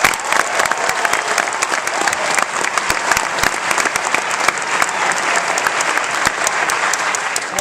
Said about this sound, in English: Let's give the doctors a round of applause.